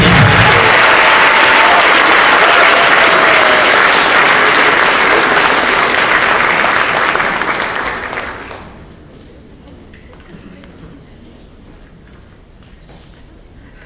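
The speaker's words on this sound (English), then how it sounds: "Please give a round of applause to all our senior members of the class of 2022." A school awards-night audience applauds the senior class of 2022, loud sustained clapping filling the room for about eight seconds before quickly fading to quiet room tone.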